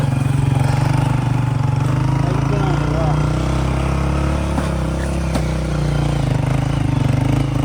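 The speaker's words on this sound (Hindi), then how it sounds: "इमरान भाई बाइक को उड़ाते हुए" A motorcycle engine runs steadily and loud on a mountain ride toward Nanga Parbat, a constant droning rumble with slight revving, no talk heard.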